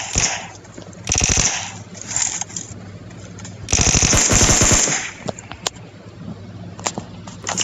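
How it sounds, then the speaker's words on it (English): Short bursts of M16 gunfire in the mobile battle-royale game PUBG Mobile: loud, rapid groups of shots at about 1 and 4 seconds, with scattered single cracks between them. "M16 suck, let me tell you. They have burst fire."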